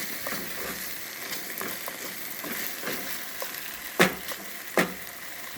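Bacon, potatoes, green peppers and onions sizzle steadily in a pan on a Coleman camp stove outdoors in the woods, with a few sharper clinks from stirring near the end.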